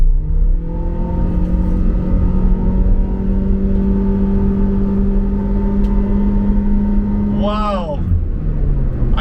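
A 2023 Honda BR-V VX SUV with a CVT accelerates hard in sport mode, its engine droning in a steady rising hum that sweeps sharply upward near the end, heard from inside the cabin with talking over it.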